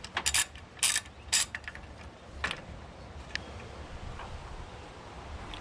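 A ratchet wrench turns a 9/16 inch bolt out of a Ford Bronco alternator bracket during 351W engine work, in a few quick bursts of close clicking that then taper to occasional faint ticks.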